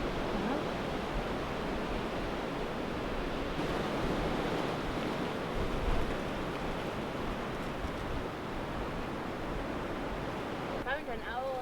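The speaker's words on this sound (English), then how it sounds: "there's that sound of the wind through the trees" Continuous broad roar of wind rushing through trees, dense and wave-like, holding steady at moderate loudness with faint voices near the end.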